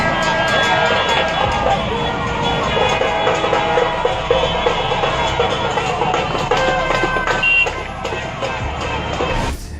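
Dense, continuous crowd noise from people massed in the streets of Ahmedabad, a loud, steady roar of many voices with scattered shouts and background clatter throughout.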